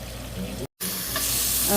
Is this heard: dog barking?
no